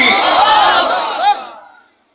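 A religious gathering's crowd shouts Allahu Akbar together in a loud, sustained collective cry answering a takbir call, which then fades out quickly.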